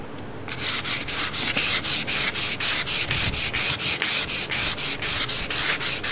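Soaked sandpaper rubs back and forth over a surface in quick regular strokes, about four per second, each a close, loud, gritty swish that keeps a steady rhythm without any voices.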